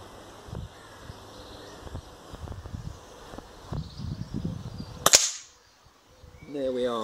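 An air rifle fires a single pellet with one sharp crack near the end, following outdoor rustling and handling noises, then quiet.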